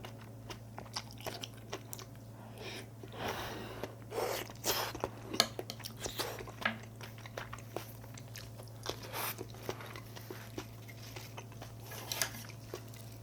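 Someone eats sweet braised Korean pork ribs at home, chewing and biting close to the mic with crunchy, wet mouth sounds and occasional utensil clicks, steady over a constant low hum for about thirteen seconds.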